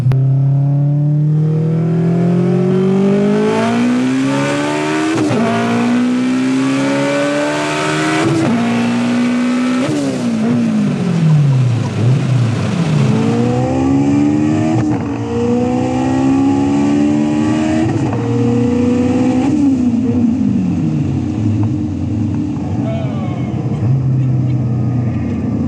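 A 900 hp turbocharged all-wheel-drive four-door Honda engine revs hard and loud up close, rising through repeated climbing pulls with brief drops between them, a continuous strained roar throughout.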